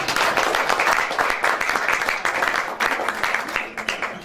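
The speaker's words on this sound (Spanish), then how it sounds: "Gracias, un aplauso por favor." An audience at a cultural panel on political song claps in a dense, steady burst of applause, fairly close and filling the room, tapering slightly near the end.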